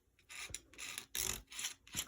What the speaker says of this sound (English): So this is just a palette knife, and I'm just kind of scraping and scratching.